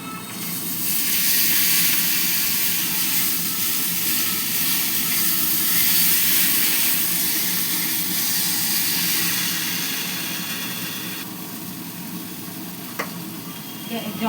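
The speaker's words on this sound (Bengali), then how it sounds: "গরম জলটা হয়ে গেছে, ফুটে গেছে।" Hot water at a rolling boil in a home kitchen while a small-fish and vegetable curry is cooked, a steady loud hissing, bubbling roar that eases slightly toward the end.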